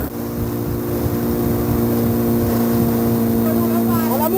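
Motorboat engine at sea off Lamalera, a traditional whaling village, droning loud and steady throughout with a constant low hum that never lets up.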